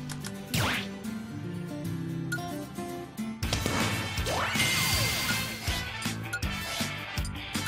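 A video game smash attack lands with a loud crashing impact partway through, followed by sweeping whooshes and ringing hits over upbeat game music.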